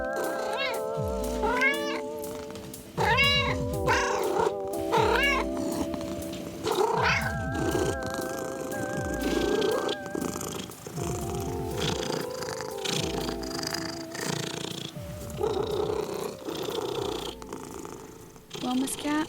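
A domestic cat purrs steadily with repeated rising meows and occasional yowls, fairly close and loud, with music or voices running underneath.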